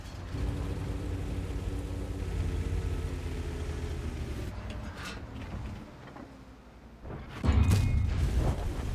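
A high explosive shell hits in World of Tanks, heard as a deep rumbling impact near the end. Before it comes a steady engine drone and a quieter stretch.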